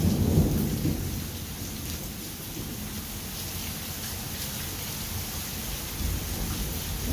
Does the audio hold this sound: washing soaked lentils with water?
no